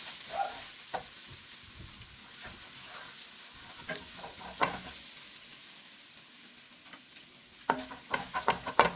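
Garlic sizzling and frying in a pan for chicken arroz caldo, with a steady close hiss and scattered scraping stirs, a burst of quicker stirring clatter near the end.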